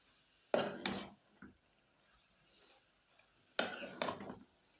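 A utensil stirs boiled carrots and vegetables for samosa filling in a pan, giving two pairs of sharp metallic clinks separated by a quiet stretch, close and otherwise faint.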